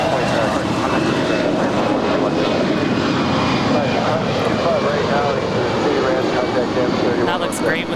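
A Legion jet airliner departs LAX for Grand Rapids, a loud, steady engine roar filling the whole span, with a person talking over it.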